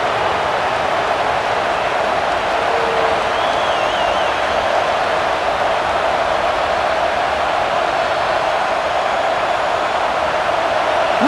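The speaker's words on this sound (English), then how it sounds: "Listen to the crowd energy here in the early going." Stadium crowd noise in NCAA College Football 26 during a Clemson Tigers versus Alabama Crimson Tide game, a steady, loud wash of cheering that roars evenly throughout without breaks.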